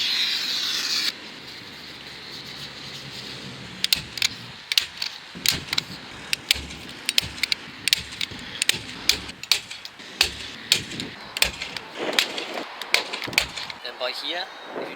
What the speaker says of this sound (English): I just like to fold it back over again so that I can staple it into the timber